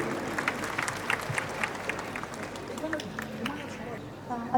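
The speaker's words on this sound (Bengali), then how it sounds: "একটা জোরে করতালি দেন এই মাম্মিটার জন্য" Audience clapping at the CJFB Award 2025 ceremony, a steady wash of applause from a crowd with some background chatter mixed in, holding at a moderate level throughout.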